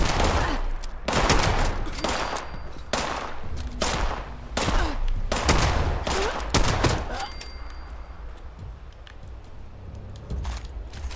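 Enemy gunfire in Fallout 76, a rapid series of loud sharp shots and bursts in close succession over roughly eight seconds, thinning into quieter scattered reports at the end.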